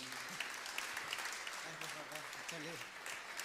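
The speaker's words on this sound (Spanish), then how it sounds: "¿Por qué no le damos un aplauso a Francisco Sierra, por favor?" Broad, steady applause from a crowd fills the clip, with a voice speaking faintly underneath.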